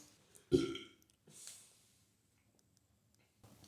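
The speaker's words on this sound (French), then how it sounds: "La voisine, elle a roté, c'est dégueulasse." A single loud, close burp from a neighbor, short and deep, followed by a faint breathy snort and then near silence, in a casual vlog setting in Valencia.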